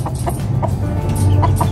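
Chickens cluck and chicks peep close by in a farmyard, short repeated calls over a steady low background, with no talk.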